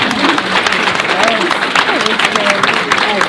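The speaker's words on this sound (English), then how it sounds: "let's give them a big round of applause" Conference audience applauding at a bilingual education event in Prague, a dense wash of clapping with some crowd murmur and voices mixed in throughout.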